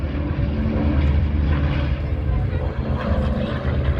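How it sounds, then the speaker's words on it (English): A C-47 making a low photo pass at an airshow in Owls Head, Maine, its piston propeller engines producing a loud, steady drone throughout, with a crowd or announcer faintly under it. "Here's photo pass for C-47 and Miss Jacqueline."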